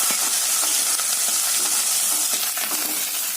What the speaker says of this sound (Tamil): இதெல்லாம் சேர்த்து நல்லா இந்த எண்ணெயில பொன்னிறமா வதக்கி விடுங்க.